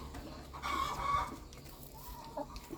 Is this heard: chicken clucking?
yes